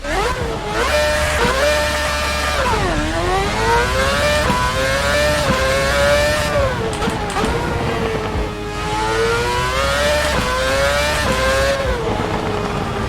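A V8 Formula 1 car engine in the video game Assetto Corsa screams through repeated upshifts and downshifts, pitch climbing and dropping as it accelerates and brakes at Goodwood, loud and continuous.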